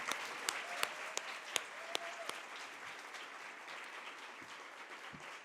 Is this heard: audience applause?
yes